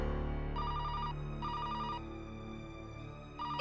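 A telephone rings in a home with repeated electronic trilling bursts, two long rings followed by the start of a third, loud and close with a steady hum beneath.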